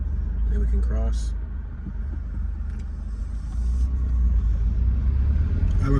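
A car passes on Main Street in Bolivar, Tennessee, its steady low engine and tire rumble swelling and fading over several seconds, heard from close by with some faint clicks.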